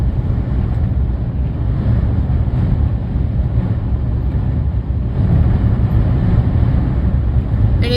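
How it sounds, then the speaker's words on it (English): Strong wind in a dust storm over mountains, a loud continuous low roar buffeting the microphone without letup. "It is massively windy here."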